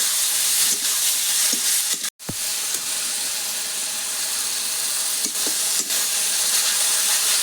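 Onion, garlic and spices sautéed in a pan, heard as a continuous loud hissing sizzle that holds steady, with a few soft stirring knocks and one brief dropout.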